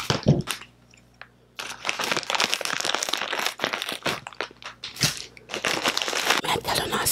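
Crinkly plastic snack bag of Bigfoot, handled and cut open with scissors, giving dense close crackling and crunching bursts after a brief quiet gap, continuing loud and busy throughout.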